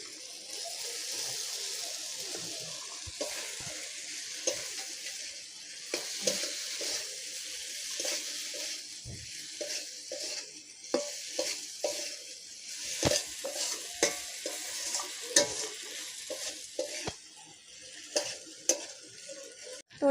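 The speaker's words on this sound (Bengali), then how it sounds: "এবার আমি এতে মাছগুলো দিয়ে একটু কষাবো।" Prawns being stirred and sautéed in spiced, oil-releasing masala in a pan for prawn malaicurry: a soft, steady sizzle with intermittent scraping stirs and light utensil clinks, faint and close, with no talking.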